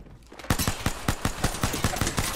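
Rapid gunfire in the Apex Legends video game, a fast rhythmic burst of close, loud shots running steadily for a couple of seconds after a brief quiet start.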